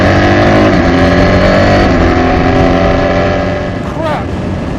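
A BMW R1300GS motorcycle fitted with an Akrapovic exhaust, ridden at speed, gives a loud, steady engine drone with strong wind rush. A short rising engine note comes near the end.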